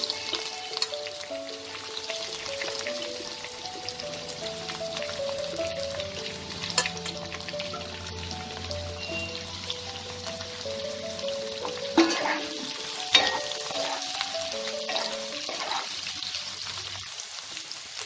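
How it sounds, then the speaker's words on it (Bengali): Potatoes and boiled raw jackfruit fry in oil in a pan, giving a steady close sizzle broken by the scrape and clink of stirring and several sharper spatters. "আলুটা যখন আমার অল্প ভাজা হয়ে আসবে তখন আমি এতে সেদ্ধ করে রাখা এঁচোড়টাকেও দিয়ে ভালো করে ভেজে নেব।"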